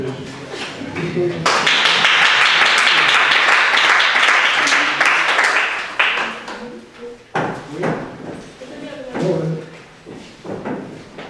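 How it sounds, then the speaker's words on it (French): A church congregation applauding at a Sunday service, a dense burst of clapping that swells for several seconds then breaks into scattered claps and thumps, with voices talking over the tail. "On va applaudir pour les..."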